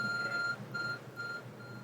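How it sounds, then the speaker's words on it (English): A glowing phone-like object in Pokemon Legends Arceus gives off a repeating electronic beep: three or four short, bright tones pulsing at an even pace over a quiet low background hum, fairly faint. "There's a glowing, beeping object over there."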